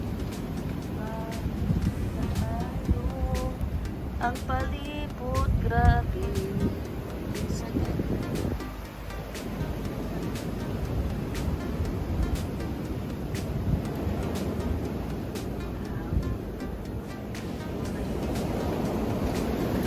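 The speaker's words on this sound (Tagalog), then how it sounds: "Minawan ninyo yung hangin guys." Strong blizzard wind roaring steadily outdoors before Christmas, a broad, continuous rush buffeting the microphone, with a person speaking briefly over it near the start.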